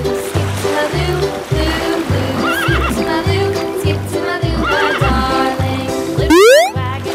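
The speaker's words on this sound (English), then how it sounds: "Horse." A horse neighs in a loud, high whinny near the end, preceded by a steady clip-clop of hooves in an even rhythm, with shorter whinnying calls in the middle.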